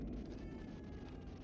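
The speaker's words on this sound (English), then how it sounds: "I could talk to my cat." A faint, brief cat meow from the video game Evil Within 2, heard alone over a steady low background hum.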